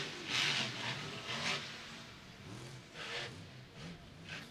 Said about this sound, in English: you can hear that truck, the throttle rhythm in the air from Camden Murphy